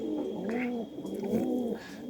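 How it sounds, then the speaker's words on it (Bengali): A female pigeon with clipped wings coos while held in the hand, two or three soft, close, rolling coos in a row with faint rustling between them. "এই যে এখানে একটা 35 মাদি কবুতর ধরেছি।"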